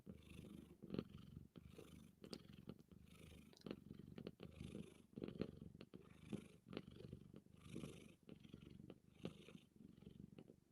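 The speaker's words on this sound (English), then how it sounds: "Those are some loud purrs." A cat purrs loudly and steadily, close up, in a continuous rhythmic rumble that fills the whole stretch without speech.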